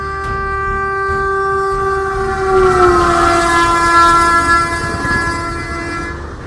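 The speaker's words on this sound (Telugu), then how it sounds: "ట్రైన్ డ్రైవర్ లేకుండా ఫుల్ స్పీడ్ లో దూసుకుపోతుంది." A driverless train at full speed after running a red signal, its horn blaring in long, loud, sustained tones over a steady rolling rumble, the pitch sagging slightly midway.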